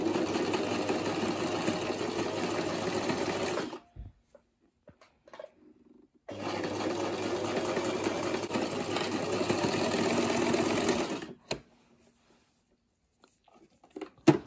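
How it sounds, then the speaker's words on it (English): A sewing machine stitches fabric for a ruched headband, running in two loud steady whirring bursts of several seconds each, separated by a pause filled with small handling clicks. "Now I want to sew this side now."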